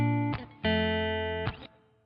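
Two sustained mono electric guitar chords ring out with a slight reverb echo tail, separated by brief scratchy strums, alone and fairly quiet.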